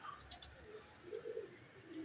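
A pigeon coos softly a few times, low and throaty, against quiet outdoor background noise with faint chirps.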